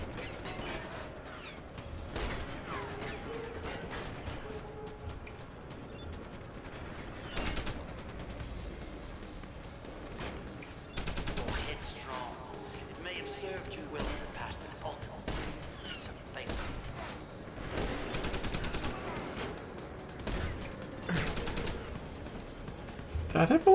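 Gunfire in a video game, repeated bursts of shots scattered across the scene, fairly close and loud, mixed with mechanical clatter and a voice talking over the action.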